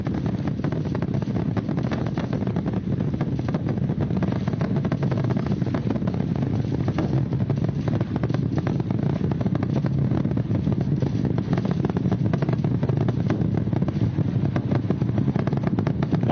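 The Artemis II rocket's main engines and solid rocket boosters roar steadily during launch, a dense, unbroken broadband rumble that stays loud and constant throughout with no voices.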